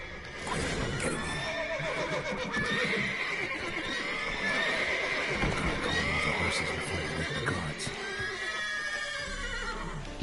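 Frightened horses in The Witcher 3 neigh continuously, high whinnies rising and falling over steady hoof clopping, close and loud for the whole stretch.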